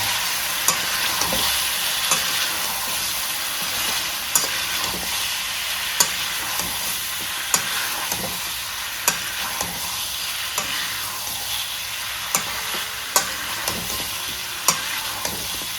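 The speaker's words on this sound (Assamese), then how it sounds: "এনেকৈ প্ৰায় চাৰি মিনিটমান সময় ঢাকন নিদিয়াকৈ ভাজিম আমি" Chicken with chicken masala, cumin and Kashmiri chili frying uncovered in a pan, a dense continuous sizzle with regular sharp scrapes and taps of a spoon stirring, close and steady.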